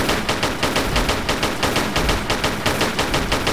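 Gunfire in the Tomb Raider The Last Revelation video game, heard as a rapid automatic burst of evenly spaced shots that hammers on loudly and continuously with no pauses.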